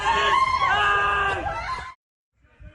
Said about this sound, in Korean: 공원에 도움을 요청하는 비명이 가득합니다